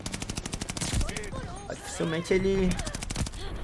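Automaton rifle gunfire in Call of Duty Vanguard, a rapid rhythmic burst of shots at moderate volume, with someone talking over it.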